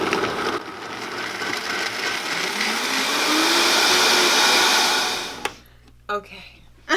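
A blender whirs loudly for several seconds, its motor pitch rising steadily, then cuts off abruptly, followed by a few faint knocks.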